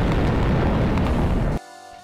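An explosion in Garry's Mod roars loudly with dense, sustained rumbling for about a second and a half, then cuts off abruptly into quiet synthetic tones.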